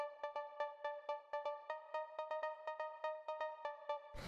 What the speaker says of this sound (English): The next thing we have here is this pluck, which sounds like this.